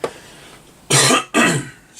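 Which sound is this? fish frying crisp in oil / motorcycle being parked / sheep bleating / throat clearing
throat clearing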